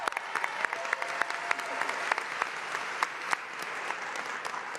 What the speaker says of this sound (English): give everyone up here a round of applause.